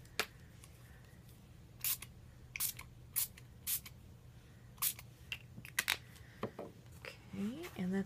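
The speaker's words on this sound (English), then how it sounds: "I'm just going to start spraying." Short bursts of ink spraying from a spray bottle, about a dozen quick hisses spaced irregularly over a low steady hum.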